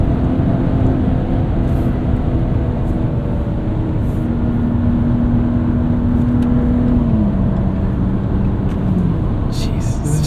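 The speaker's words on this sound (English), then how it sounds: "it's a Baja luxury truck that drives and sounds like a sports car" A 2025 Ram RHO desert performance truck driving near flat out, its engine a loud, steady drone heard from inside the cab, with the pitch holding and then dropping as the driver lifts off slightly.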